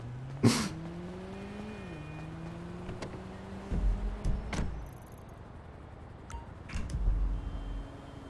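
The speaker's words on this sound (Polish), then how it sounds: "Włączaj ten silnik, Cfelus." Car engine in a video game turns over and settles into a steady low idle hum, with a few door-like thumps and mechanical clunks later in the clip.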